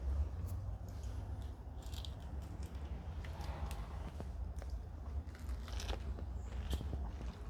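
Crisp, wet crunching and chewing of pomelo segments with the membrane, close to the mic, a steady run of small crackly bites over several seconds, with no talking.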